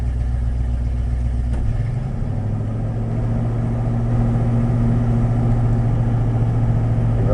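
A Ford engine fitted with a new carburetor runs on a cold start at close range. A steady, loud idle hum shifts to a slightly higher pitch partway through and then holds evenly.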